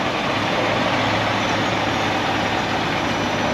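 A flatbed truck idles at a lumber yard, giving off a steady low engine rumble with a constant hum that stays even and fairly loud throughout the short stretch, with no talking.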